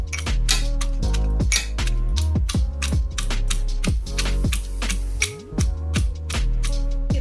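Chopped ginger and garlic with a little oil and salt are pounded into a paste for dhaba-style chicken, a quick, steady series of ringing metallic thuds repeating close by without pause.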